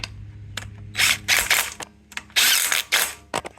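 Wrench clicking and ratcheting as a bolt is torqued down on a Honda CL90 engine, several bursts of close, crisp ratchet clicks separated by short pauses.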